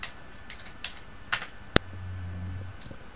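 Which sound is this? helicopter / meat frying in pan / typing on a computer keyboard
typing on a computer keyboard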